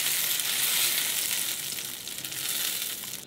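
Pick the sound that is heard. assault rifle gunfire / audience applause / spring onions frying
spring onions frying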